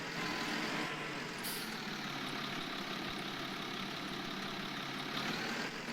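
A tractor engine in Farming Simulator 19 drones steadily, a broad, even rumble with a faint beep near the start and no talking over it.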